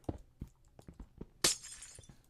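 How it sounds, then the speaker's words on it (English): Glass block breaking in Minecraft: a sharp shattering crash preceded by several soft block taps and footsteps, close and clear with no talk. "Dang it, unnecessary glass."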